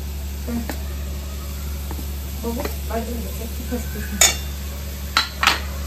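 Jaggery being stirred into a modak filling in a pan, a few soft scrapes and clinks of a spoon against the pan over a steady hum, with quiet talk.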